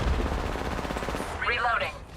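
Rapid bursts of automatic gunfire crackle through a battle-royale style game match, dense and continuous for most of the moment before easing off as a short radio-like voice cue cuts in near the end.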